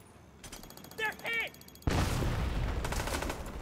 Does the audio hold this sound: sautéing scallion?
no